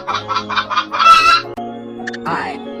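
A hen clucks in a rapid series of short, bright calls, then a brief squawk and a couple of sharp chirps close by.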